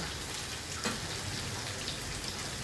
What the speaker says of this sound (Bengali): ফোড়নটা হয়ে গেছে এবার আমি পেঁপেগুলো দিয়ে দেবো পেঁপেটা এবার একটু ভেজে নেব